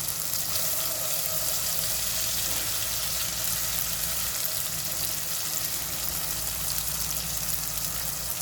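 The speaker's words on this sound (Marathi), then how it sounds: "फोडणीमध्ये आपण छोटे 4 चम्मच मसाला इथे ॲड करणार आहोत" Masala hitting hot oil in a tempering for chole, a dense, loud, unbroken sizzle and hiss that holds steady throughout, close up and without talking.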